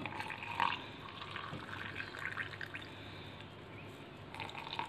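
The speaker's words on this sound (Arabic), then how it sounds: "وهنحط اللبن الساخن" Hot milk poured onto hot chocolate powder in a cup, a soft continuous liquid pour with light trickling and dripping, fairly faint and steady throughout with no talking.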